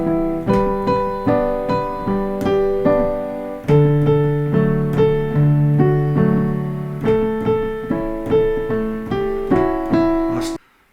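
Piano plays the melody of a song over a left-hand accompaniment, struck notes and chords sounding in a steady rhythm, clear and close, with no talking.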